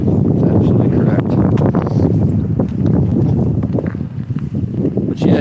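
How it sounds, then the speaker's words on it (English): Frigid wind blows steadily outdoors, a loud continuous roar and buffeting across the microphone that never lets up, with faint thumps mixed into the gusts. "Because it is frigid windy."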